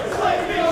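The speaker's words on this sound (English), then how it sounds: "The crowd comes alive" A wrestling arena crowd roars in a steady, dense wash of cheering and yelling during a Rey Mysterio versus Ricochet match, swelling slightly midway with no distinct voices standing out.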